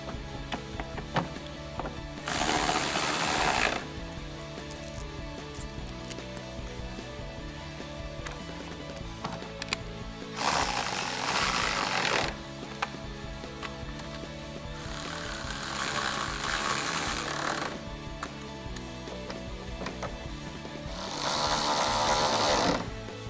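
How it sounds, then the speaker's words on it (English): A ratchet drives four 10 mm screws back in while a bumper is refitted on a 2011-2016 Ford Super Duty, heard as four separate bursts of rapid mechanical whirring over steady background music. "And now we can put our 4 10 millimeter screws back in."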